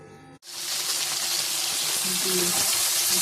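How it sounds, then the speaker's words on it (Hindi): Okra (bhindi) drops into hot oil in a pan and bursts into a loud, dense, steady sizzle that holds close and continuous. "अब ये जो सी भिंडियाँ थी, अब मैं इनको डाल दिया। अब मैं इनको फ्राई करूँगी।"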